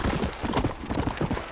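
A horse's hooves clip-clop steadily in the Red Dead Redemption video game, a close, brisk rhythmic trot of hollow knocks with no talking over it.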